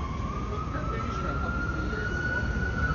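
A police siren wails steadily as it passes along a US street, loud and continuous over low traffic rumble, with people talking.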